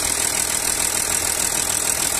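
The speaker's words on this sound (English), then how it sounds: "Engine sound very nice and smooth" An Audi A8 SE Quattro with a 3-litre V6 TDI diesel engine idles with a steady, even hum and a faint clattering tick, constant and close.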